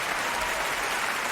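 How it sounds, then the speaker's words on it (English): Recorded hand claps in a music track, a dense steady wash of clapping like an audience applauding, loud and continuous throughout with no talking. "them hand claps are really going"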